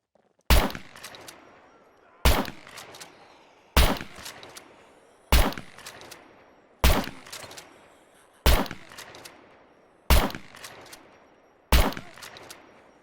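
A pump-action shotgun firing birdshot in the survival game SCUM, eight loud, evenly spaced blasts about every one and a half seconds, each with a short decaying tail and no talk over them.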